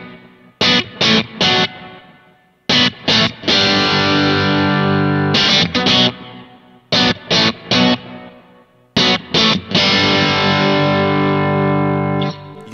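Distorted electric guitar on the bridge pickup playing a rock tone through an impulse response cab sim: loud, crunchy chords in short chopped stabs alternating with long ringing sustained strums, with no talking.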